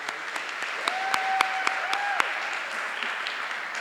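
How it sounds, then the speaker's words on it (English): A middle school crowd claps for students at an eighth grade recognition ceremony, with scattered sharp claps and a brief whistle or whoop rising over the applause. "One more round of applause for these students"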